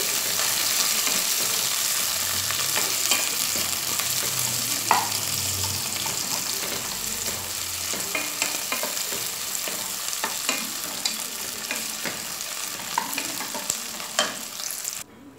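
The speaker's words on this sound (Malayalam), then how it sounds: "ഇനി ഇതിലേക്ക് നമുക്ക് ഉള്ളി ചേർത്ത് കൊടുക്കാം." Onions sauté with whole spices such as cardamom in a pressure cooker for vegetable biryani, giving a steady close sizzle and hiss with scattered scraping and clicking from stirring throughout.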